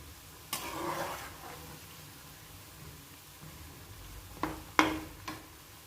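Mathri dough rounds deep frying in hot oil in a home kitchen: a soft, steady sizzle with a few sharper clinks and scrapes of utensils against the pan.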